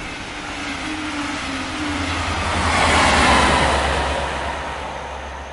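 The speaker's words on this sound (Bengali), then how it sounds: "মাঝে মধ্যে মাঝরাতে 2-1টা এক্সপ্রেস প্রচণ্ড গতিতে ফাঁকা মাঠে গোল দিয়ে এগিয়ে চলেছে।" An express train rushes past at high speed at night across open fields, a steady loud rumble with a low hum that swells to a peak midway and then eases slightly, no voices.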